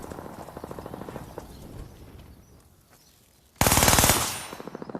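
Akimbo machine pistols with an 8-round speed magazine fire in Call of Duty: Vanguard, a rattling burst near the start, a quieter gap, then a loud, dense rapid-fire burst close up that tails off at the end.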